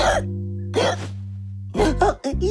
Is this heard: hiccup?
yes